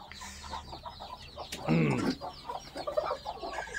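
Golden local chickens on a farm in Nepal cluck and squawk in scattered, overlapping calls, with one louder outburst in the middle, heard close and moderately faint.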